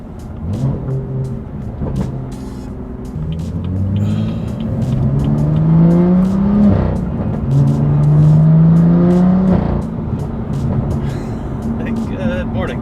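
A BMW M2 engine revs with its exhaust valves open, giving a rising and falling throaty roar in a couple of swells at close range.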